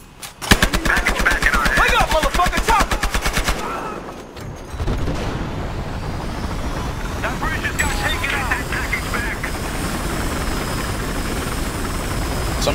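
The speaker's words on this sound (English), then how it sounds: "Chopper right here!" Rapid machine-gun fire rattles at first, then a helicopter's steady whirring drone continues with voices talking over it, in the video game Battlefield Hardline.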